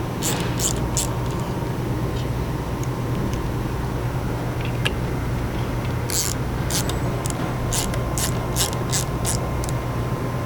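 A ratchet tightens 5/16 bolts on an igniter mounting plate, giving steady rapid clicking throughout, with sharper bursts of ratcheting near the end.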